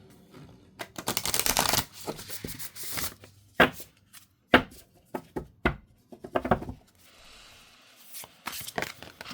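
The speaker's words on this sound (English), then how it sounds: "Give it one extra shuffle here" A deck of cards is shuffled close by: a long riffling burst, then a series of sharp, separate card snaps and taps with short pauses between them.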